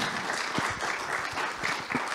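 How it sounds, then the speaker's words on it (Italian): Applause from an audience at a film screening, honouring young climate activists; steady, dense clapping from a sizeable crowd, close and even, continuing throughout with no talk over it. "io direi di fare un applauso a loro che sono giovani"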